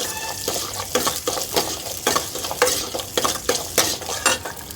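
Green chilies and onions sautéed in a pan, with rhythmic stirring scrapes and spatula knocks over a light sizzle, close and fairly busy throughout.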